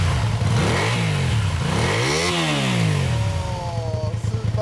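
A 1984 Honda VT250Z motorcycle engine on its stock exhaust idles, then is revved up sharply to a peak and falls back to a loud, close idle.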